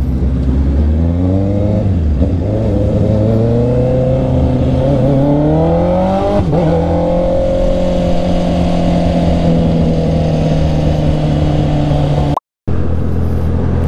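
Jeepney traffic passes along the road nearby, loud engines rising and falling in pitch as vehicles accelerate by, with a brief dropout near the end.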